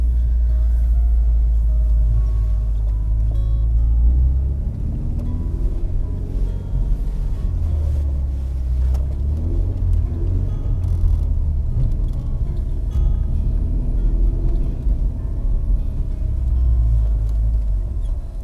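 A 1993 Volvo 240 wagon driving and drifting on a snowy road, heard as a loud, constant low engine and road rumble from inside the car with no clear changes.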